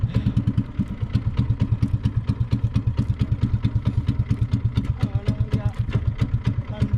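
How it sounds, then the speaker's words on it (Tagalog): A small fishing boat engine idles with a rapid, steady putter, the regular chugging continuing unbroken and close for several seconds. "Ayaw mamatay ng makina."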